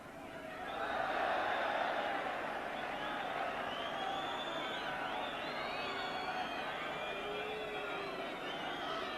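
Football crowd at a 1984 Milk Cup tie between Halifax Town and Tottenham Hotspur, with about a thousand Spurs supporters present, keeping up a steady, distant roar and chanting throughout.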